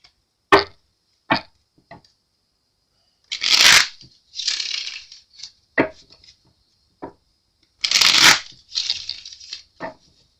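Tarot cards are shuffled by hand in a series of short riffles and taps with two longer rustling bursts between pauses, close and crisp, with no talk.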